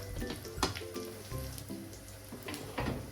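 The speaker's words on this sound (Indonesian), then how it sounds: "Untuk bagian kulitnya, aku render, dimasak dengan api kompor kecil sampai keluar minyaknya." Chicken skin rendering in a wok over a low stove flame, frying out its fat for Hainanese chicken rice; a steady close sizzle with scattered pops and crackles throughout, with no voices.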